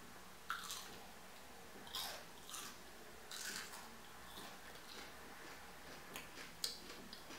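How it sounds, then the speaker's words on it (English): A Dairy Queen onion ring bitten and chewed up close: a few distinct, quiet crunches spaced a second or so apart against a low, hushed background. "listen to the crunch of this onion ring"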